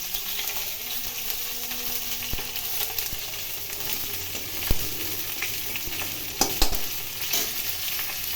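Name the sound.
fenugreek, fennel and nigella seeds tempering in hot oil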